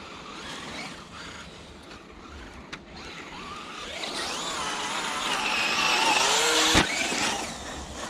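A Traxxas UDR Max6 RC truck with a 34T pinion drives in a frozen gravel pit, its electric motor whining in rising and falling sweeps that grow louder midway, with crunchy tire and ground noise throughout.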